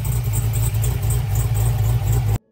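A car engine idles with a choppy cam through a loud exhaust, a close, steady loping pulse with rhythmic uneven beats that cuts off abruptly at the end.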